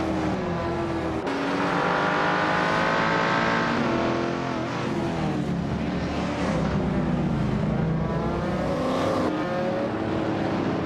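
A 1977 Lancia Stratos HF Group 3 race car in a video game roars off the line at a race start, its engine revving loud and steady with rising and falling pitch sweeps as other cars rumble alongside.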